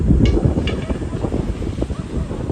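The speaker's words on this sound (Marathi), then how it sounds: "वारा पण सुटलाय बाहेर." Wind gusts past an outdoor gallery at sunset, a steady rough rushing noise buffeting the microphone, with faint clicks and knocks under it.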